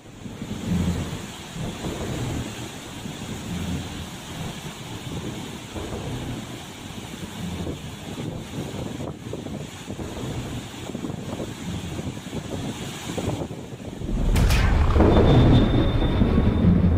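Heavy rain pours in the mountains as a steady, dense roar with gusty rumbling underneath, swelling to a louder, harsher downpour near the end.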